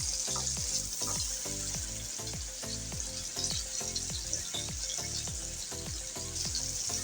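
Eggplant slices sizzle steadily in hot oil, a dense continuous crackle overlaid by a regular series of low knocks that repeat roughly twice per second throughout, with no voices.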